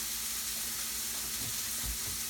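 Steak sizzles loudly and steadily in a skillet, a dense close frying hiss with faint crackles and no voices.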